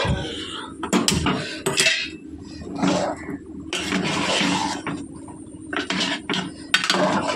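A utensil stirs curry in a metal pan with a splash of added water, giving irregular scraping and clinking strokes in short bursts with brief pauses, close and fairly loud.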